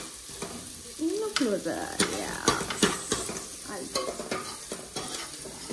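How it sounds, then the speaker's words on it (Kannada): Chopped ginger and garlic paste fries in a pan with a steady close sizzle, broken by scraping stirs of a spoon, while a voice briefly speaks over it. "ಪೇಸ್ಟ್ ಚಾಪ್ಡ್ ಜಿಂಜರ್ ಗಾರ್ಲಿಕ್ ಇದನ್ನು ಸ್ವಲ್ಪ ಫ್ರೈ ಮಾಡ್ಕೋಬೇಕು"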